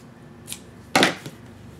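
Scissors snipping through quilt fabric while trimming a scrap quilt block: two short, crisp cuts, one faint and one louder, with nothing else around them.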